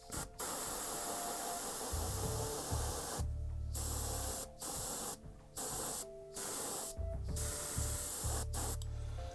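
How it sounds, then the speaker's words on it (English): An Army Painter spray can sprays paint onto a BattleTech miniature in several loud hissing bursts separated by short pauses. "let's go ahead and spray this and see what we get"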